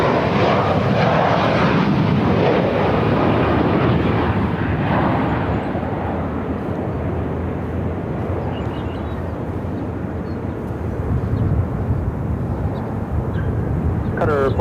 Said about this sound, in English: This is Southwest Airlines Flight 368 coming in from San Diego.